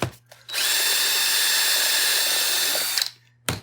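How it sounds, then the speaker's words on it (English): A power drill whines steadily at close range for about two and a half seconds, drilling through the plastic of a Wagner paint sprayer, starting and stopping abruptly, with a few small clicks around it. "Drill the plastic that holds it together."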